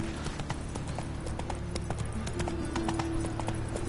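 Horse hooves clip-clop at a fast gallop in The Witcher 3 video game, a rapid, steady drumming of hoofbeats over a low rumble, with no talk.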